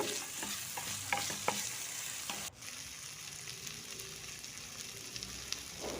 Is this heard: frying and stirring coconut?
yes